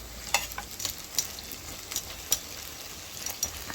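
Steady soft sizzling of saltfish fritters with bell peppers frying in oil, with scattered crackles and pops throughout and no talking.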